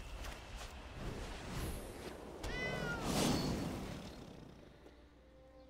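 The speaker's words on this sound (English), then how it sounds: "Definitely sound really menacing with that meow just now." A cat warrior meows in the Magic the Gathering Arena video game, a single drawn-out, wavering meow near the middle over a steady low game background, with no talking.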